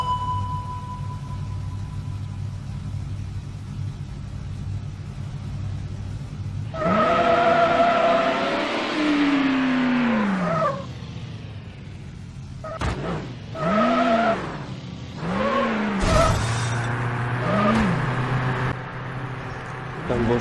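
Engine revs, swelling whines and tire squeals from a car racing video game played online, loud near engine tones rising and falling in bursts after a quiet start with a low steady hum.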